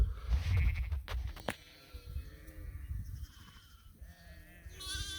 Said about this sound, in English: look at the lambs